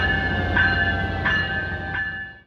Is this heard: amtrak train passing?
yes